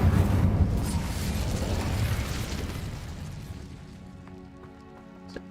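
A fire spell cast in the Hogwarts Legacy video game gives a loud, roaring whoosh of flame that rumbles and crackles, then fades over several seconds into quieter tonal game effects.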